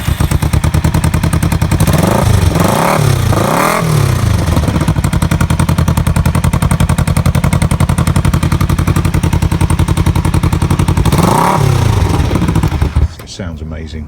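Kawasaki EN450 motorcycle engine with a modified exhaust idles steadily and loudly up close, with a few throttle blips rising and falling, before cutting off near the end.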